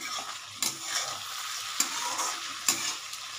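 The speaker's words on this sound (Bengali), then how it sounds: "এটা আমি একটু নেড়ে দিচ্ছি।" Spices for a fish curry are stirred in a hot pan, a continuous sizzle with a few sharp scrapes and knocks of the spoon against the pan, close and fairly loud.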